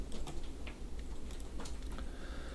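Quiet, close clicks of keys being pressed on a computer keyboard to enter a drafting software command, a short run of irregular taps over low background hiss.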